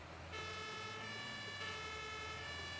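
A steady emergency siren from an ambulance in the Emergency 11 firefighting game, holding a sustained high wailing tone with a deep engine hum beneath, swelling slightly louder partway through and playing alone with no talk.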